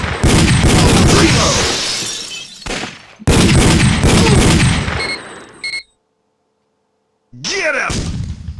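Loud gunfire and blasts in the PS1 game Euro Demo 82, coming in dense, punchy bursts with a short pause, then a brief total silence before another sharp burst.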